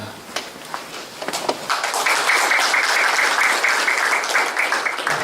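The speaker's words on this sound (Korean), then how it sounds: "박수는 좀 크게 치시면 괜찮습니다" Audience at a cultural forum breaks into applause, scattered claps at first that swell into a full, steady round of clapping.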